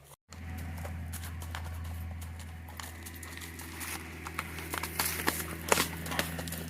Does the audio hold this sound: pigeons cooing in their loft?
no